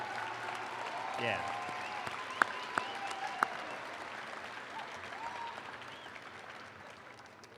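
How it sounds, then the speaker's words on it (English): An audience at a 2022 university commencement ceremony applauds graduates' families and friends, a sustained crowd clapping that swells briefly and then slowly fades, with a voice heard briefly. "give them a round of applause for all that they've done to support you"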